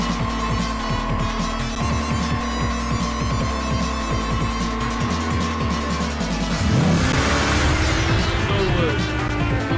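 Car engine revving in the night street racing video game Oxide Racing 3D, a steady loud droning motor with rapid gear-like pulses, then a rising whoosh and higher surging revs near the end.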